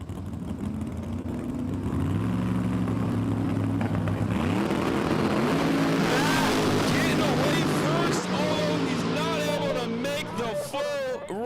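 Drag racing cars, a Ford Mustang and a split nose Corvette Camaro, roar at an outdoor dragway, engines droning loudly then revving and rising in pitch as they launch and pass, with an announcer talking over them.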